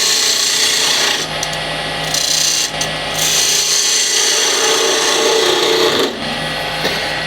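Skew chisel cutting the end of a spinning resin-gum wood box on a lathe, a loud continuous scraping hiss over the machine's hum, with brief dips as the tool lifts, no voices.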